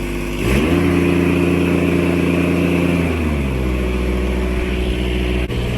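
A Kubota G6200 tractor engine catches and runs with a loud, steady, close-up mechanical drone, then settles to a slightly lower idle partway through.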